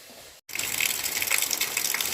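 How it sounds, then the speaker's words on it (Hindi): Rainwater pours steadily from a house roof during a monsoon-season downpour, a dense continuous gush of falling water heard close by after a brief dropout, with no talk over it. "देखो कितना पानी गिरत हवे। ये देख हमार छत से निकलत हवे, मतलब नीचे आवत पानी।"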